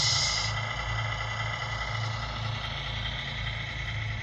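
A 1/16 scale RC truck pulling a DCM lowboy trailer, its motor giving a steady low hum and whir throughout, close and continuous with no talking.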